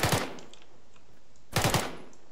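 Rapid bursts of gunfire during urban combat training, two loud, close strings of shots separated by a quiet gap of about a second and a half.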